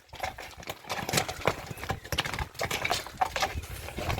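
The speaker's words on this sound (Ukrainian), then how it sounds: "Оце коні такі виїзні, каретні, е, дуже дуже гарна кобила" Percheron horse hooves clop in an uneven rhythm on a hard surface, fairly quiet, with some low background rumble.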